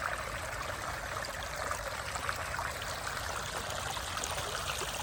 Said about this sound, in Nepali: ल कति राम्रो पानी छ नि त बगेको।